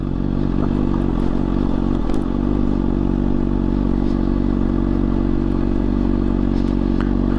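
Honda CBR600RR sport motorcycle ridden slowly off-road on a rough track near Hetauda, Makwanpur, its engine a loud, steady close drone with clatter and scraping of the bike over uneven ground.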